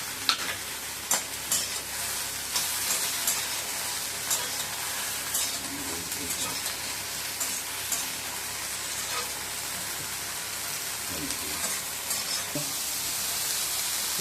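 Brinjal sautéing in a pan with soaked tamarind gives a steady, close sizzle and fry, with scattered scrapes and clicks of a spatula stirring throughout.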